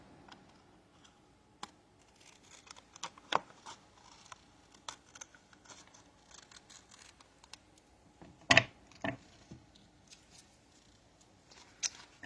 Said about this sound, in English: Let me cut this off so you can see what I mean. Oh, get the scissors out.